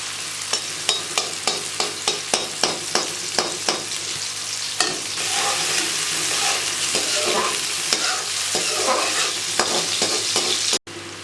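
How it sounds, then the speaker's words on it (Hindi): Sliced onions sizzle in a hot pan, struck by a quick regular run of spatula stirs early on, then settling into a steady, close frying hiss broken by a few scattered scrapes. "पहले हम प्याज को भूनेंगे, लाइट ब्राउन करेंगे"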